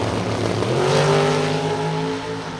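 Rear-engine dragsters idle and rev at a drag race starting line. The engine roar is loud and close, with a rising tone that holds for a moment and then eases slightly.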